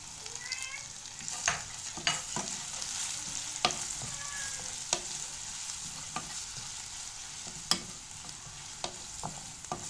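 Garlic and spices (cumin, coriander, pepper, salt) fry in hot oil for lentil soup, a steady crackling sizzle broken by sharp stirring scrapes and clicks of a spoon in the pan, close and continuous.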